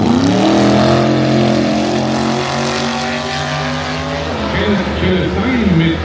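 A Chevrolet Camaro drag racing car at a NitrOlympX doorslammer event holds a loud, sustained burnout with high revving, its engine drone steady and close before settling into a rougher, wavering note with tire noise.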